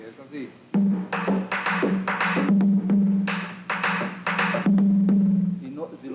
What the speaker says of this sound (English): Now, this side is the one that really gives the typical merengue rhythm.